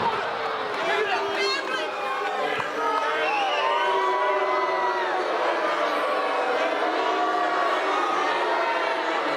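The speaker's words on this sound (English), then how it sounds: "We know the crowd's back in tonight, David, and it's not Marcus Kool." Wrestling arena crowd at a live pro wrestling show in New Zealand, a steady loud roar of chatter, cheers and whoops filling the whole span without letting up.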